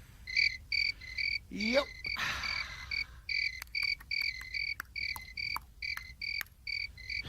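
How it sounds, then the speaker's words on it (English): Crickets chirp in steady, evenly spaced pulses throughout, with a brief rising whistle-like sound and a short burst of noise partway through; a voice speaks once. "So, you hear crickets again, do you?"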